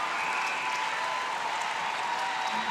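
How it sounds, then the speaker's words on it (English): Crowd cheering and applauding at a Netball World Cup 2019 match between Australia and Zimbabwe, a steady, dense roar that holds at an even level throughout with no one speaking. "So, a big cheer."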